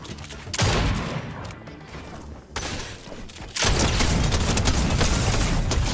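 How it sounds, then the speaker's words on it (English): Drum shotgun blasting in the video game Fortnite, heard as loud, heavy broadband bursts with a short pause, then a dense sustained barrage of shots filling the rest of the stretch. "I literally forgot about the drum shotgun. That thing scared me when he pulled it out."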